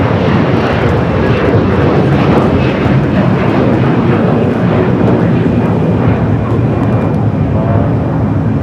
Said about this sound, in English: Air Tahiti Nui, the Dreamliner went off, crossover 25 at right.